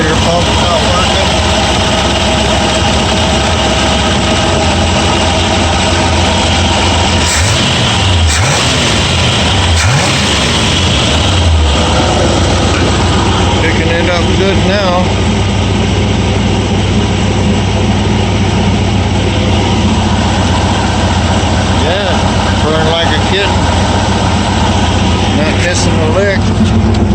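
A 1960 Ford F100 engine runs steadily at a high idle after a carburetor rebuild, with a loud, continuous droning rumble throughout. A few brief revs change its pitch partway through, and voices talk over it now and then.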